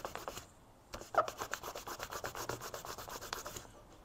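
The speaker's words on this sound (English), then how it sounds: "Now we should sand it down and then we'll hit it with some paint." Plastic BMW E46 steering wheel trim is sanded by hand with 500 grit sandpaper, a close, quiet rhythmic scratching of quick back-and-forth strokes repeated steadily for several seconds.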